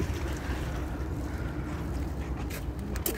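Motorboat noise on open water off Turkey, a steady low engine rumble of small fishing boats mixed with wind buffeting the microphone and faint splashing.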